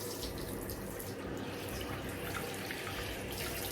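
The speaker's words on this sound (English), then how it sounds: "I rinse my hands on my brush." Tap water runs steadily into a sink as hands and a face are rinsed during a bedtime skincare cleanse, a continuous close splashing wash with no talk.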